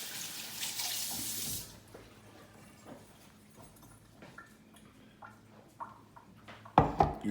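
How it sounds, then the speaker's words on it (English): Hands are rinsed under a running kitchen tap while cooking lamb ragu, the steady close water hiss filling the first couple of seconds before fading to quiet room noise, with brief clatter and a splash near the end. "I'm just going to rinse my hands."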